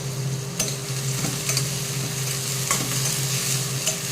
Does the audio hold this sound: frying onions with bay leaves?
yes